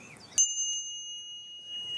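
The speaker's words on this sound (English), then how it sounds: "As we come to the end of 5 minutes, you'll hear the sound of the bell." A meditation bell, struck once at the close of chanting, gives a sharp bright strike and then a pure ringing tone that fades slowly into near silence.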